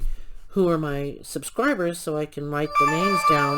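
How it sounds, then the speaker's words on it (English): A phone notification chime sounds briefly near the end, while a person keeps talking over it. "that's my phone notification"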